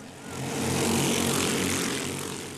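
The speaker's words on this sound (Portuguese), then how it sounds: "o ronco dos motores de kart com a segunda bateria da Copa Palmas" Kart engines roar loudly and continuously during the second heat of the Copa Palmas race, a dense buzzing drone that swells toward the middle and eases slightly at the end, with no talk.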